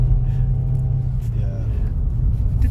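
A car engine labours in first gear up a steep road toward a slate mine near Buttermere, a loud steady low rumble throughout, with people talking over it inside the vehicle.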